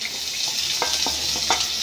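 A spoonful of ghee sizzles in a pan with grapes and walnuts for a Kerala sweet, a steady close frying hiss broken by a few soft stirring scrapes.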